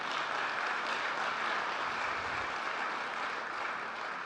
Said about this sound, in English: Give us a big round of applause for that.